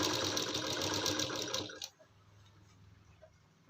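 A sewing machine stitches piping onto the arm hole of a child's kurti, running in a fast, close rattle for about two seconds before stopping, leaving near quiet.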